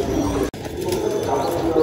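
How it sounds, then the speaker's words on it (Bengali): High flyer pigeons in a loft in Dhaka coo softly and repeatedly, close by, against a busy background murmur. There is a brief dropout near the half-second mark. "তো এখানে কিছু হাই ফ্লায়ার জেনারেশনের কবুতর আছে"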